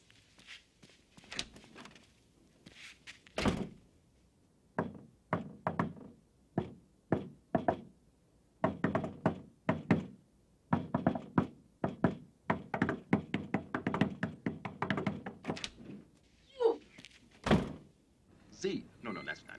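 A patterned knock on a door, a long run of sharp raps in irregular clusters with gaps between them, loud and close. Speech comes and goes around the knocking.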